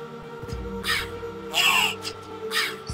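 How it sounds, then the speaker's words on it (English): Crows caw in the video game Castlevania: Symphony of the Night, three harsh calls spaced roughly a second apart over a steady game music bed, with someone talking faintly underneath. "Stupid crow!"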